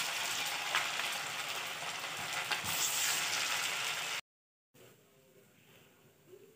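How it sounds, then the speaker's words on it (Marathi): Marathi snack vadi pieces sizzle as they fry in oil over a medium gas flame, a steady close hiss that cuts out briefly and then resumes more faintly. "दुसऱ्यांदा पुन्हा हे सर्व वड्या आपण मस्त मध्यम गॅसवर तळून घेणार।"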